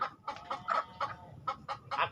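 Hens clucking close by in a run of about nine short, sharp bursts at a quick, uneven rhythm, fairly quiet, with no voices.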